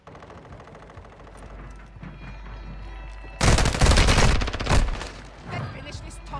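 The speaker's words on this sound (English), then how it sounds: "Friendly airstrike on the way." A burst of heavy airstrike explosions and rapid gunfire erupts in a Call of Duty match, loud and dense for about a second and a half, with scattered shots before and after.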